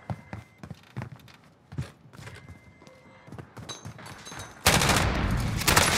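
Gunfire in the video game Warzone: scattered single shots and short bursts with light footstep-like taps, then a loud, dense fusillade of rapid fire that fills the final second.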